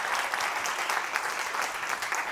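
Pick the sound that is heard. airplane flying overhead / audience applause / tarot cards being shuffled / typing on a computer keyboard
audience applause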